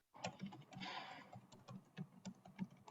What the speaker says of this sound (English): I hear the keyboard on